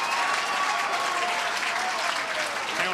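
A rugby crowd at a 2017 Australia Schools vs New Zealand Schools match cheering and applauding a daring play, dense steady clapping and roar filling the stadium throughout.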